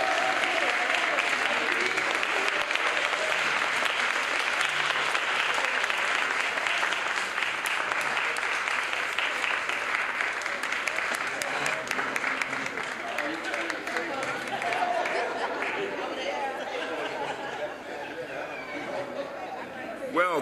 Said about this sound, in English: Let's give a great round of applause for our very own Congressman Danny K.